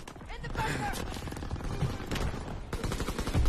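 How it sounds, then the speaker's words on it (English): Machine gun fire in the shooter Call of Duty WWII, rapid close bursts of shots in a dense multiplayer battle, with a person talking over the gunfire. "Okay, he had a machine gun."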